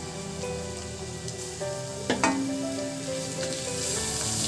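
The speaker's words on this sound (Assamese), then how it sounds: "ৰঙচুৱা হোৱালৈকে ভাজি ল'ম মই পিঁয়াজখিনি" Onions sizzle and crackle in hot oil while being fried until reddish-brown for a chicken curry, a steady frying hiss with a couple of sharp utensil clinks near the middle.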